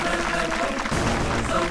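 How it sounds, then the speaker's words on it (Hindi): Clapping from a crowd gathered at a building inauguration, a dense steady patter lasting under two seconds with a faint voice or music bed underneath. "चलो ताली बजाओ"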